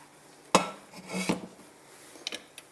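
Frying pan picked up and handled in a home kitchen: a sharp metallic clank, scraping and rattling, then a few lighter knocks, close and alone with no talking.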